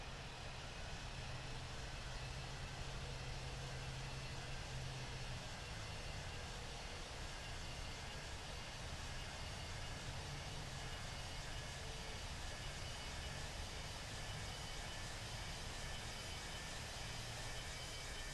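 A Virgin Atlantic Airbus A340-600 roars on takeoff at London Heathrow, heard as a steady, broad, faint engine rush from a distance with no voices.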